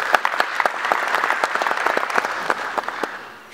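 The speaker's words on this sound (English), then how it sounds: "Let's give the Office of the President a round of applause." An audience gives a round of applause at a public address on tourism and visa processes, a dense steady patter of many hands that holds throughout and tapers slightly at the end.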